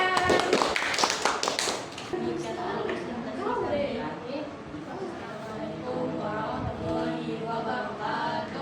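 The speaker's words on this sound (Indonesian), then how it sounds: "Enggak ada ya, tepuk tangan." A classroom group bursts into clapping that fades after a couple of seconds, followed by indoor chatter and voices speaking.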